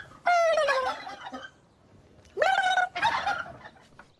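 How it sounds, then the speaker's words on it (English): Turkeys gobble in three loud, close bursts, a long warbling call followed by two shorter ones after a pause, with no voices in between; the birds are being raised for Christmas. "Gobbling or not, these turkeys will be in the oven come Christmas."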